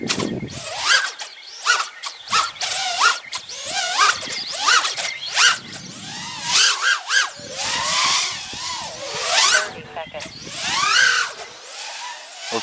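Small FPV quadcopter on HQ 3x4x3 three-blade props, motors whining and surging in rapid pitch sweeps with a persistent oscillation, loud and close with no talk.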